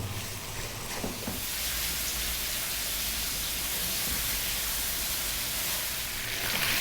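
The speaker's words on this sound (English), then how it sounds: "So that's 6 or 7 minutes, frying that around." Chicken pieces with turmeric fry in a dry pan with no oil, giving a steady, loud broadband sizzle that holds evenly throughout with no talking.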